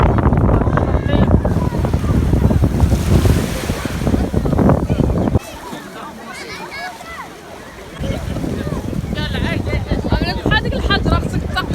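Sea waves wash onto Belyounech beach in northern Morocco, with steady surf and wind buffeting the microphone, loud and close, while people talk over much of it.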